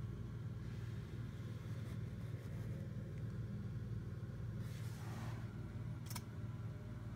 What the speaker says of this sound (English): The car's just warming up.